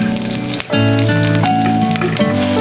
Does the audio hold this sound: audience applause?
no